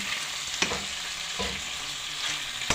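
Beef caldereta stirred in a pan, a steady soft sizzle under a few scraping strokes of a spoon, quiet and close, with no voices.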